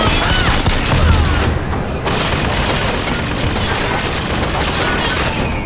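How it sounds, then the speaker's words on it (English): Machine-gun fire in a video game rattles in a dense, continuous barrage of loud shots with booming impacts, with no breaks throughout. "I think I might have to skip that machine gun"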